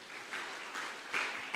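Church congregation applauding, a steady wash of clapping from a large crowd that swells near the end, with no talking over it.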